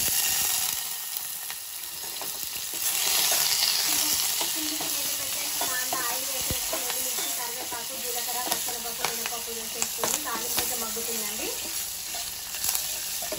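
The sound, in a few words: tempering frying in pan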